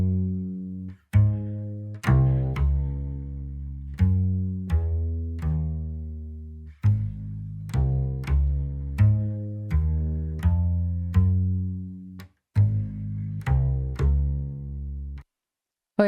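Two layered synth bass sounds, one deep and one with more high end, playing a plucked melodic line of short and held notes with brief gaps, clear and close with no voices.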